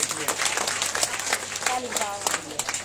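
An audience at a Hindu religious gathering during Navratri, a Bhagavat Katha session, claps briefly, moderately loud applause mixed with a voice speaking over it.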